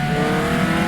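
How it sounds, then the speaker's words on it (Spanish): Race cars accelerate on a rain-soaked track in the racing game Automobilista 2, a brief, close, rising engine roar heard alone. "los coches en pista ya, acelerando"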